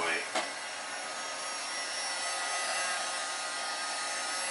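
A heat gun blows a steady, fairly quiet airy hiss while warming a MK4 Jetta headlight, with a brief tap near the start and no pause in the airflow.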